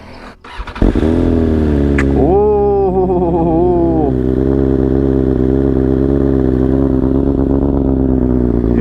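A motorcycle with an Akrapovič full-system competition exhaust starts with a sharp crack, then revs up and settles into a loud, steady, raspy idle close by.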